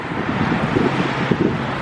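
Strong wind buffets the microphone on the Gibraltar coast, a steady, loud, broadband roar with gusty swells and no voices.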